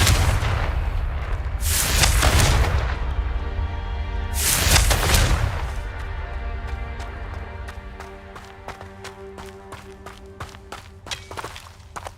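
Confringo blast spell in the Hogwarts Legacy video game: two loud explosive booms a few seconds apart, followed by a rhythmic patter of running footsteps.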